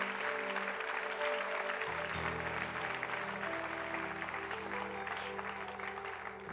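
A congregation at a church service claps in a sustained, fairly even round of applause, with a low musical drone underneath.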